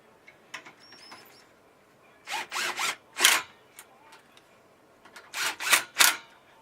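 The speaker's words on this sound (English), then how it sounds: "we're going to tighten up the other fittings so things doesn't bounce around" Fittings on a bunk bed are tightened, two close bursts of three quick ratcheting or screwing rasps each, separated by quiet moments with small clicks and handling noises.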